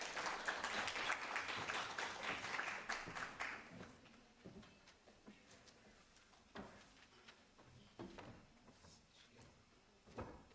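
Audience at a research and innovation week event gives a short round of applause, dense and loud for about four seconds, then fading into scattered claps, knocks and room noise.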